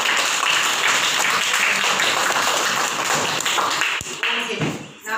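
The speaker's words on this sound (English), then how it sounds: "Clap hands for Ram." Children in a classroom clap their hands for a classmate, a dense burst of applause that lasts several seconds, then thins out and ends.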